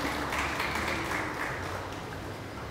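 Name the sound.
applause at awards ceremony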